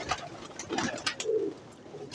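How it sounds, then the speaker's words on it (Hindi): Pigeons coo in a short, near burst among a loft of high-flying breeds, with low throaty calls swelling midway over faint background chatter of other birds. "कबूतर माशाल्लाह बहुत ही आउट क्लास हैं"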